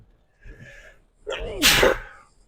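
One sharp, explosive human sneeze bursts out near the end after a short breathy intake, close and loud, with no words spoken in the clip.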